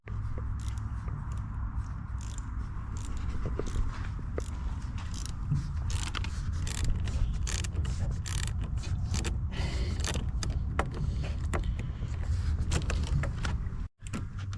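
A 7 mm socket wrench works a clamp on the turbo inlet pipe of an MK7.5 GLI, with steady close mechanical clicking and scraping running continuously for several seconds, no voices.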